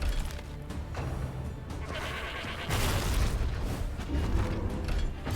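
A goat bleats in the Darkest Dungeon video game, a wavering bleat over dark, booming game ambience with creaks and rumbling low tones, steady throughout.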